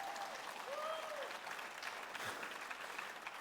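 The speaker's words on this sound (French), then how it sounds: "Voulez-vous l'acclamer avec moi encore?" A church congregation applauds, a dense, even wash of clapping that holds steady throughout at moderate distance, with faint vocal cries mixed in.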